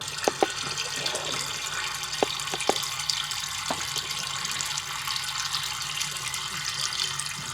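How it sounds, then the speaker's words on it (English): A narrowboat's water tank fills from a canal-side water point, with a steady trickling, splashing flow and a few sharp metallic knocks near the start, no talking. "So we've just stopped now, filling up with water."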